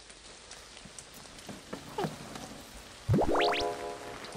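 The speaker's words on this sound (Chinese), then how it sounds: "下雨了" Light rain falls as a faint, steady hiss. A few brief chirping and rising squeaky sounds stand out over it.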